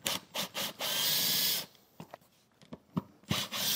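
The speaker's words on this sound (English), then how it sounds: "Now it looks like I've got some self-tapping screws that are holding this vent cap on. We'll get these removed." A power driver backs self-tapping screws out of the vent cap on the roof of a 2007 Fleetwood RV, giving close, loud sustained whirring bursts followed by short scrapes and clicks as the screws come free.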